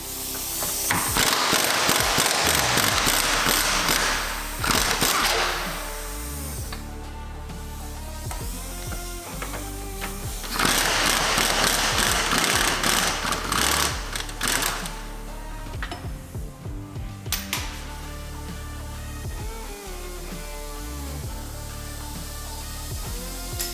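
A power tool spins and rattles while unbolting a front bolt on a Porsche Cayenne 3.0 V6 engine during an oil pan replacement, with loud whirring bursts separated by quieter mechanical clicking and ratcheting in a workshop.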